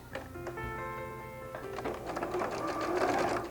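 A sewing machine stitches fabric for a tote bag, its needle whirring in a quick rapid rattle close by, with short bursts and brief pauses as the cloth is guided.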